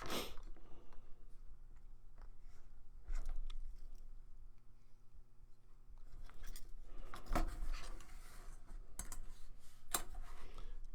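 Scissors or a blade cutting pieces of material for a scratch-built model box, with a few sharp snips and clicks spread across a quiet workbench background.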